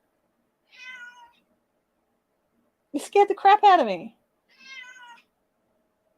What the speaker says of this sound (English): I can hear him out in the kitchen meowing.